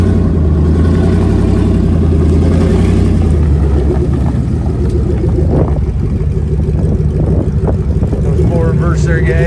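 A 2002 Ford E350 XL Super Duty van runs with its exhaust not fully passing through the muffler, a loud close rumbling idle that rises into revs, with someone talking over it.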